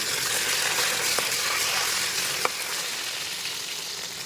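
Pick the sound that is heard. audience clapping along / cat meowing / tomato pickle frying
tomato pickle frying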